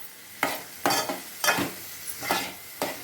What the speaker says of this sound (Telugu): ఉల్లిపాయలు బాగా వేయించుకోవాలన్నమాట